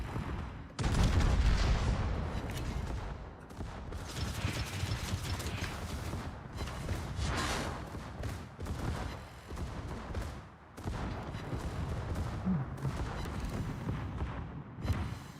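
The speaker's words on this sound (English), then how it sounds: "I see broadside battleship, I shoot broadside battleship" Naval video-game battleship guns firing broadside, heavy booming salvos and rumbling blasts recurring irregularly over a continuous loud mechanical din.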